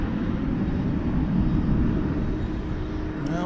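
An airplane taxiing before takeoff at DFW Airport at night gives off a steady, broad engine rumble and roar, moderately loud and constant throughout, with no talk.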